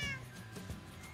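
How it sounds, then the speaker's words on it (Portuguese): A cat meows once in Minecraft with the Pokecube mod, a short, fairly faint drawn-out game sound effect heard alone. "O gato não aguenta você não, Hagrid."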